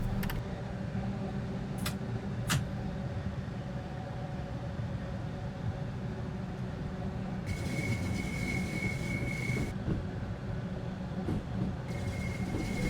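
A Class 465/9 electric multiple unit on the Rainham to Gravesend line in Train Sim World 2 rumbles along while braking, with steady wheel and motor noise, brief sharp clicks and a high whine that comes and goes.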